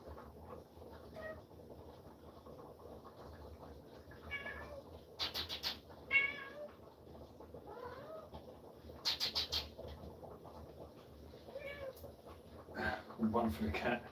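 A cat meows in short bursts a few times over a kitchen backdrop while soup with pumpkin, vegetables, chicken and salami is being made, with steady background noise and talk nearby.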